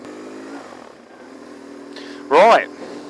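BMW R1150GS motorcycle engine running steadily at moderate volume, a low even drone throughout, with a louder burst near the end as a voice cuts in over it.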